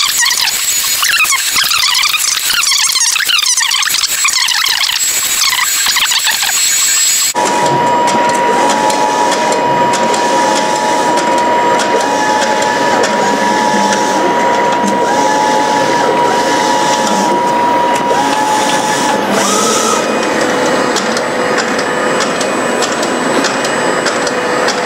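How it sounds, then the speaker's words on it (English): A Mimaki JV100 wide-format printer prints with loud, continuous mechanical whirring and squealing tones, its carriage motion and motors shifting pitch partway through. "So let's wait until it prints, finishes printing."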